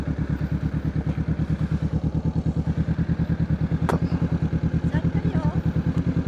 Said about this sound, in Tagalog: Ito yung mga motor.